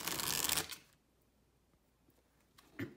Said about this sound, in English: I'm just going to quickly do a shuffle.